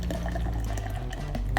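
Nitro coffee beer brewed with coffee is hard-poured into a large glass, giving a steady close gushing and splashing liquid rush that continues throughout with no talking.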